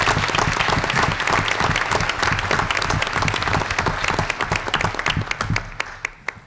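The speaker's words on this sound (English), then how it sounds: "So let's give her a hand" Audience at a Northborough annual town meeting breaks into sustained applause, many hands clapping densely before the sound thins into scattered claps and dies away.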